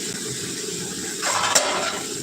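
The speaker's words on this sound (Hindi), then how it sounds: "पानी निकाल लेती हूँ।" Water pours and splashes steadily for a couple of seconds as it is drained off cooking rice, a close, gushing stream with a brief louder surge partway through.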